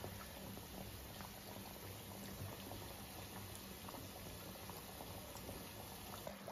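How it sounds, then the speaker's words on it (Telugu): Badusha sweets deep-frying in oil over a low flame give a steady, fairly soft bubbling that runs evenly throughout, with no voices. "ఇటు కూడా బ్రౌన్ కలర్ వచ్చిన దాకా వేయించుకోవాలి సిమ్లో పెట్టి."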